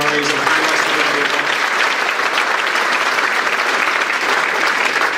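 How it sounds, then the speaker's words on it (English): Sustained audience applause at a 2017 regional innovation awards ceremony, honoring award recipients and finalists; dense, steady clapping from a large crowd filling the whole span, with a brief voice at the start. "let's give a big round of applause to all of our honorees and finalists"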